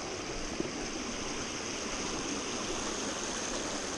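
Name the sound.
river water flowing over a tarp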